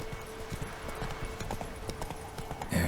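Roach, a horse in The Witcher 3, galloping with a rapid, rhythmic clip-clop of hooves over a low ambient background, ending with a brief louder burst of sound.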